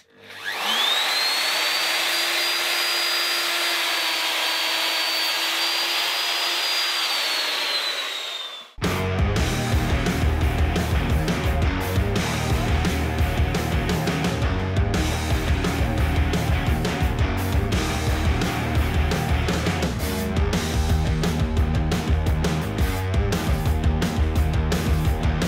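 A power tool cuts a rebate into timber for a wooden throne, its steady high whine running loud and unbroken for about eight seconds, then giving way to loud music.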